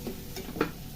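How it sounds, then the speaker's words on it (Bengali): Vegetables sizzling in a frying pan as they are stirred, a soft continuous hiss with a few brief scraping clicks from the stirring, fairly quiet and close. "ভালো করে নাড়াচাড়া করে নিই"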